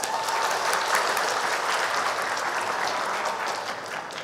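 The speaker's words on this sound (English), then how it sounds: "Give applause to us." Steady, dense audience applause that fills the room for about four seconds at an even level and eases slightly at the end, with no voices over it.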